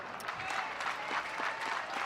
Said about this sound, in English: Crowd comes to life again.